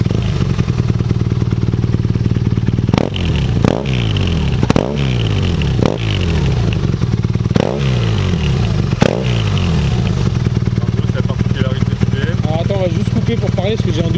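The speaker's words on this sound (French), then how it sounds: "on va la redémarrer pour faire écouter le bruit de l'Acra" A BMW R nineT motorcycle fitted with an Akrapovic exhaust idles loudly up close, then revs in a series of sharp blips, about six in quick succession, each rising and falling back to a steady rumble, with some clatter.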